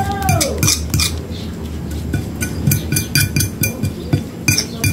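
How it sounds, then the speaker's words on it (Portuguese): Utensil scraping and clinking against a bowl while a mixture is stirred, a busy run of repeated metallic clinks and knocks up close with no talk. "vamos mexer. Misturar aí. Quanto mais mexer, melhor."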